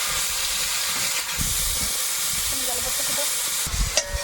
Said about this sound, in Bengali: তেলের মধ্যে চিংড়ি মাছটা দেবো